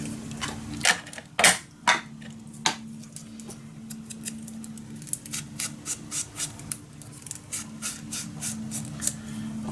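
Scissors cutting paper for a mini album, a series of crisp close snips, a few loud early strokes and then quicker rhythmic cuts, with no talk.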